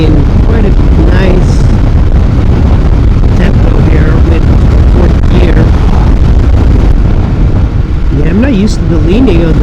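A Honda NC750X DCT motorcycle cruises in fourth gear in sport mode, its steady engine drone heavily buffeted by loud wind noise, with a rider talking over it.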